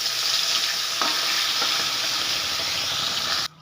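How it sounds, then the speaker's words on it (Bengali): Fish frying in hot oil in a pan makes a steady, bright sizzling hiss close by, continuous for several seconds before it cuts off abruptly. "আবারও আমি কয়েকটা মাছ ভেজে নেব।"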